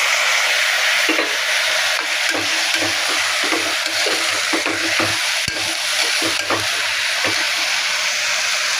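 Cowpeas frying in ghee in a pan, with a steady loud sizzle and intermittent scraping stir strokes of a spoon, close by and with no talk.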